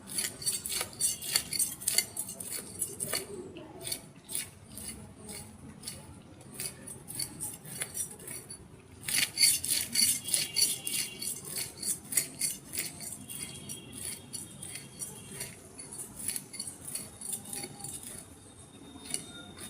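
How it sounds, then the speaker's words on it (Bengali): A knife cutting fish in a home kitchen, with metallic scraping and clinking strokes repeating in quick rhythm, close and moderately loud, with a short pause before the cutting resumes more intensely. "মাছগুলা কাটবো আমি এখন।"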